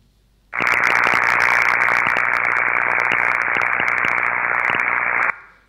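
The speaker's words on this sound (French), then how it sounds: "L'effet couronne, à l'écoute, ça ressemble à ça." A loud, steady electrical buzz of corona discharge at 50 Hz with a low hum underneath starts abruptly, holds for several seconds with faint crackles, then cuts off.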